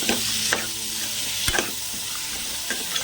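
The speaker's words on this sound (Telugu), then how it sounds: "వీటిని కూడా నూనెలో వేయించాలండి." Rajma kidney beans frying in hot oil in a home kitchen pan, a steady close sizzle broken by a few sharp stirring scrapes and clacks of the spoon.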